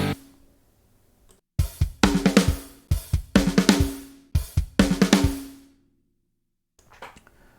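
A drum beat played with both feet and both hands: a sequence of punchy kick, snare and cymbal hits in tight rhythmic bursts, loud and close, with short pauses between phrases and a quiet tail at the end.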